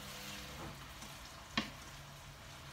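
Shrimp and vegetables stir-frying in a pan give a faint, continuous sizzle, with a single sharp clink of a utensil against the pan partway through.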